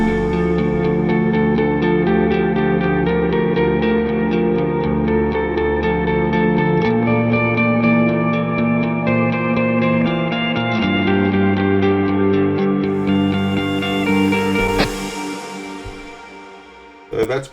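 Clean electric guitar tone through the Neural DSP Archetype Mateus Asato amp plugin, sustained chords and melodic notes ringing steadily with reverb and echo, played alone and closely recorded, ending with a brief noisy thump.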